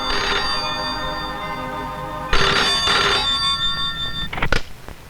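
Close by, a telephone rings in repeated electronic trills with short gaps between the bursts, clear over a quiet room with no talk.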